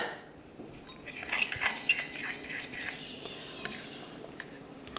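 A spoon scrapes and clinks against a bowl while lightly beaten egg and oat flour are mixed, a few soft metallic taps over faint background noise.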